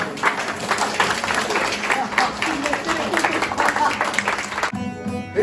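Audience applause at a Turkish folk minstrel (aşık) performance, steady dense clapping from a crowd filling the room, fairly loud and sustained before stopping abruptly near the end.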